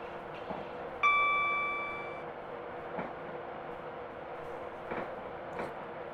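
Locomotive passing in Train Simulator Classic on the Newcastle to Edinburgh line near Musselburgh, heard as a steady rumbling rail wash with a sharp horn-like tone around the first second that fades away, plus faint rhythmic clicks.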